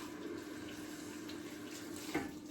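Tap water runs steadily into a sink while rubber gloves are rinsed, a soft, continuous splashing flow heard faintly throughout with a slight surge near the end.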